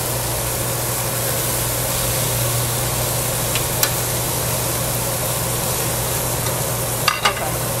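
Beef ribeye sizzles on a tabletop grill at a Japanese all-you-can-eat steak buffet restaurant, a steady close frying hiss over a low hum, with a few brief clinks near the end.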